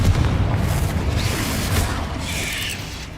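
A Confringo spell explosion in the video game Hogwarts Legacy lands as a deep, rumbling boom that rolls on and slowly fades, heard alone with no talk over it.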